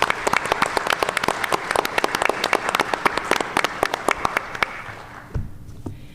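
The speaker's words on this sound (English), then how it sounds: "Please give them a short round of applause." An audience claps for donors at a university arts and letters evening, a fairly small crowd producing distinct, sharp individual claps that thin out and stop near the end, followed by a brief thump.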